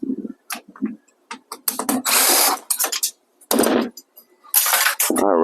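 A power driver whirs in several short bursts and a few longer runs, close and loud, as screws come out of a flat screen TV being taken apart.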